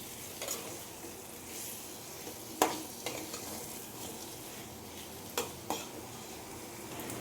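Boiled potatoes being stir-fried with spices in a pan for a fish curry, with a steady soft sizzle and a few sharp spatula scrapes against the pan, fairly quiet and close.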